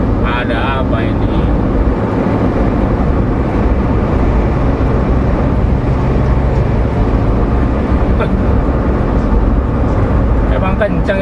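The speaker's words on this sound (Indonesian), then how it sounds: "Emang kencang itu truknya ya." A truck roars past on a busy road, heard as a loud, continuous low engine rumble that stays strong throughout, with a person talking over it.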